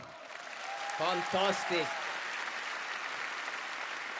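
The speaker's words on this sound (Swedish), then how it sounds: "Jakob Norrgård, en varm applåd!" An arena audience at Botniahallen keeps up steady, moderately loud applause for Jakob Norrgård, while a voice calls out briefly over the clapping.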